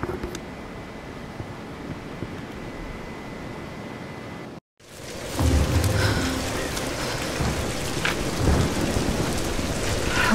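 Thunderstorm with heavy rain in the video game Tomb Raider: Definitive Edition, first a softer patter, then after a brief silence a louder downpour with rumbling thunder, steady and close, with no talk.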